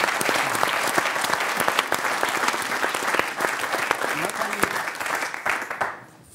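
Studio audience applause during a German talk-show interview with actress Marie Bäumer: dense, steady clapping from a crowd, fairly close and loud, holding for several seconds before fading away at the end.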